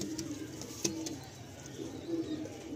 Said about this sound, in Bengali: এবার এক জোড়া পায়রা আপনাদেরকে দেখাচ্ছি